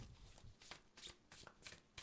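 A deck of oracle cards being shuffled by hand, with a quick run of soft riffling and slapping bursts close by, each lasting a fraction of a second.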